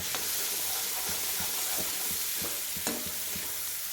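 Tempered horse gram thuvaiyal sautés in a pan with a constant close hissing sizzle, punctuated by scattered clicks and taps of a spatula stirring and scraping the mixture.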